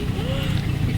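An auto rickshaw engine hums and rattles continuously at close range, with a steady low drone.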